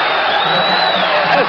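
A boxing crowd on its feet between rounds, a loud continuous roar of cheering and whooping that fills the arena without a break.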